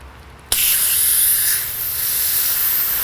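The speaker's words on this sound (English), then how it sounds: "I'm going to purge the air out of this line by simply opening this up a little bit" Air purged from a yellow refrigerant charging hose during an R-12 to R-134a car air-conditioning retrofit bursts out as a sudden, loud, close hiss that starts abruptly and holds steady for several seconds.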